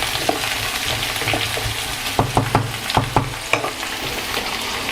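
Food searing in a hot pan with a steady background sizzle and a series of distinct spatula stirring knocks and scrapes, sparse at first and then clustered, close and clear, with no speech.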